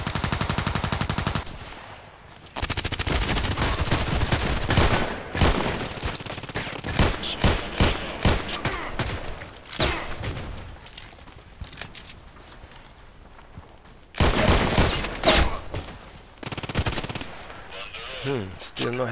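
Python revolver shots fire in the video game Contract Wars: loud, sharp reports come in quick bursts and separate shots, with a few quieter gaps between them.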